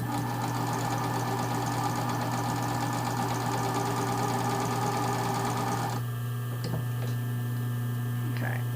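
Sewing machine stitching a wide zigzag over unstretched elastic, a steady close mechanical whir with fast rhythmic ticking that runs for about six seconds, then stops, leaving quieter hum and a few small clicks.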